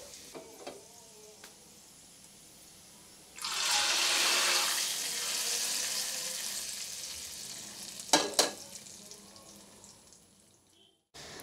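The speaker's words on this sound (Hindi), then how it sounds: "ये देखिए इस तरह से चलाते हुए प्याज को अच्छा सा सुनहरी होने तक फ्राई कर लेना है" Onions frying in oil in a home kitchen as part of a dal chawal preparation, a steady sizzle rising abruptly and holding for several seconds, with stirring clatter and a couple of sharp utensil knocks near the end.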